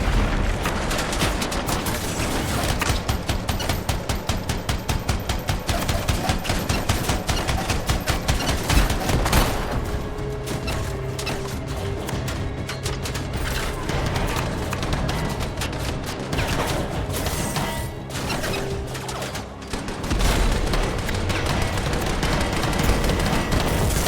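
Gunfire from the video game Anthem, shooting at enemy turrets, fills the scene with dense, rapid bursts of shots and booming impacts that rattle on continuously and loudly.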